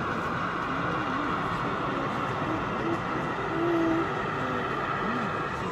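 A model British Rail Class 03 shunting locomotive runs on an exhibition layout, giving a steady low rumbling hum with faint squeals, mixed into the busy background noise of the show hall.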